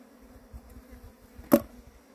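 Apis honey bees during a colony capture, a low faint buzzing hum close by, with a single sharp knock near the end.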